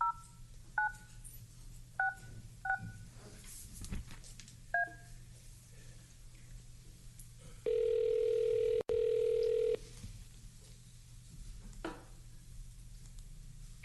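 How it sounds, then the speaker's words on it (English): A phone number keyed in as a series of short, clear DTMF beeps, followed by a long steady tone split by a brief break, all over a quiet hum in a county commissioners court meeting room. "If I'm dialing 682, is that, I don't have to dial anything else?"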